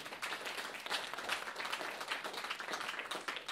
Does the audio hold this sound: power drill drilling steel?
no